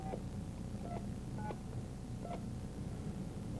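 A telephone is dialed on live television, a series of short touch-tone beeps in an irregular sequence, fairly faint over a steady background hum with no talking.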